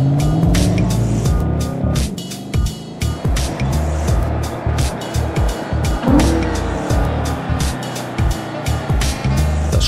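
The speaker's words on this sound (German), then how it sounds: "das lustvolle Hochdrehen und der betörende Klang des V8 machen die Fahrt zu einer Faszination" An Audi RS5 with a 4.2 FSI V8 is driven hard at the Ascari race circuit in southern Spain, its engine note climbing and shifting under dense, choppy road and tire noise, with a voice talking over part of it.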